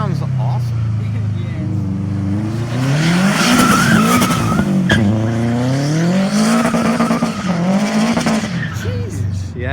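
Big-turbo, rear-wheel-drive swapped Subaru drifting, its engine revving and wailing up and down in waves with tire squeal and skidding throughout, loud and close, with people talking over it.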